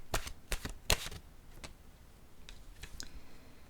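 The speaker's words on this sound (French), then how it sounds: "Je vais piger maintenant une carte de mon oracle de l'âme intuitive" An oracle card deck is shuffled and a card drawn, with a few sharp, close clicks and snaps at the start, then softer scattered taps and rustles in a quiet room.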